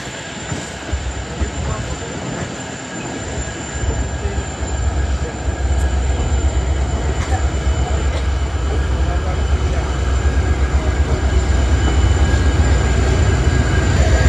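Goods train standing at Castle Rock, top of the Dudhsagar ghat section, with a steady, loud rumble of rail cars and idling locomotives, a continuous close wash of railway noise without a break.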